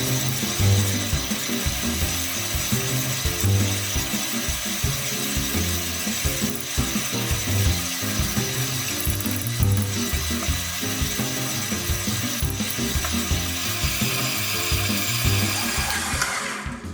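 A stand mixer kneads colomba pascal dough as butter is worked in, its motor and gears giving a steady mechanical rattle with rhythmic thumping of the dough throughout, close and alone.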